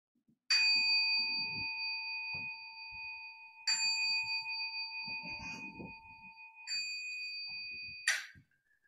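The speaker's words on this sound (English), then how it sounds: "And I'll ring the bell since I have it." A meditation bell rings at the close of a Zen Sunday service: four clear, sustained metallic strikes, each ringing on and decaying, with faint rustling and movement in between.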